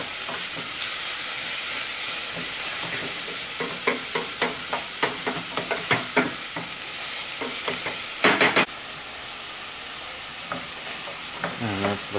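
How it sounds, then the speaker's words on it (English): Onions and butternut squash sizzle steadily in a pot while a utensil stirs them, producing a run of scraping knocks over the constant frying hiss. "Give those a nice stir."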